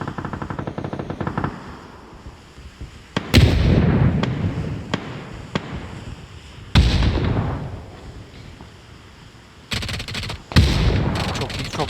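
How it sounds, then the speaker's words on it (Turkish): Rapid bursts of automatic gunfire and sharp single shots in a squad-based battle royale video game, loud and close, coming in several clusters with pauses between them, while players talk over them. "Senin oradan bir yerden sıkıyorlar."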